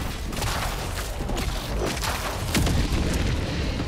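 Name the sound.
Hellbomb explosion in video game Helldivers 2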